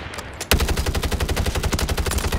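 Rapid automatic gunfire in the Warzone battle royale game on Urzikstan, starting abruptly after a brief quiet lead-in and continuing as a loud, steady stream of evenly spaced shots.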